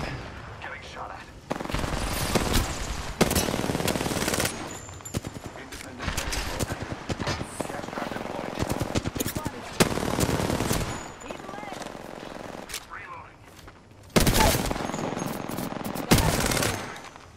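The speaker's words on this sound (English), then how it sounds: "Getting shot at." Automatic gunfire in the video game Apex Legends, repeated rapid bursts and volleys of shots, loud and close, with spoken callouts in between.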